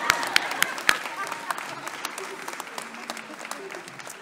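Applause for a co-teacher at a college ceremony naming a new president: a few sharp claps up front, then sparse, scattered clapping from a modest audience that thins out and fades over a few seconds.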